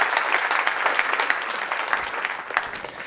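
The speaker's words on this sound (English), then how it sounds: "So please help me give a round of applause to our sponsors." Conference attendees at Medicine X give a round of applause for the sponsors; the clapping is moderately loud and slightly uneven, with individual claps standing out before it gradually thins.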